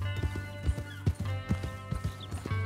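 Horse hooves clip-clopping at a steady walking rhythm in Red Dead Redemption 2, close and moderately loud over a low droning background.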